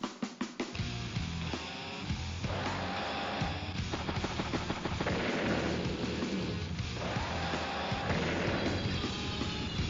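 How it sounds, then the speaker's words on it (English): A bomber air strike lands in Advance Wars: Days of Ruin, with a dense run of booming, crashing blasts and rattling impacts rolling continuously over game music for several seconds. "Bomber makes a good strike there in the anti-air."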